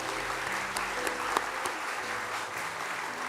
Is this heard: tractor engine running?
no